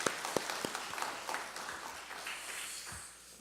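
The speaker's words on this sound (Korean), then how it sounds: "큰 박수 한번 부탁드립니다" Church congregation in Oakland applauding during a Sunday women's mission society service, a fairly quiet, thin patter of claps with a few sharper individual claps standing out near the start, steady for a few seconds.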